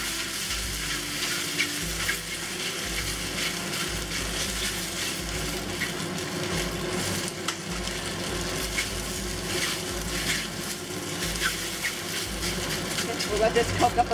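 Rice noodles frying in hot oil in a wok over medium-high heat, a continuous close sizzle with scraping and stirring, under a steady low background hum.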